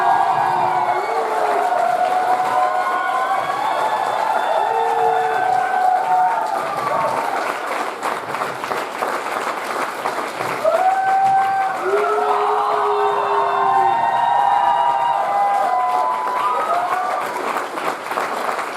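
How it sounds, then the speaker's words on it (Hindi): Audience applauding a motivational speaker at a live talk: dense, steady clapping fills the hall for the whole stretch, loud and close, with scattered whoops and raised voices rising over it in two bursts. "एक बार मुझे अपनी तालियों के माध्यम से बता के दिखाइए आप।"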